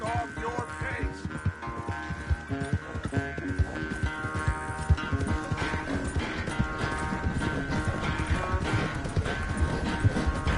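Horse hooves clip-clop steadily in a PS4 video game, a brisk continuous rhythm of hoofbeats mixed with game music and ambient sound throughout.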